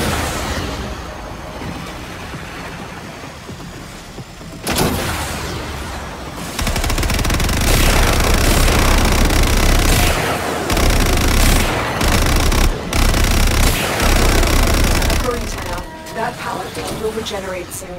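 Heavy gunfire pours into the Fomorian core in Warframe, dense sustained bursts of automatic shots and booms that erupt after a quieter start and continue loudly, with brief pauses, to the end.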